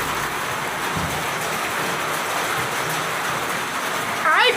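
Steady rain falls outside a small headquarters room on a very rainy Thursday, a continuous broadband hiss that stays level throughout, with a brief chirping sound near the end.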